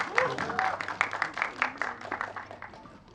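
A crowd at a Delhi film promotion for Ek Villain 2 gives a round of applause, clapping rising and fading in waves while voices call out over it.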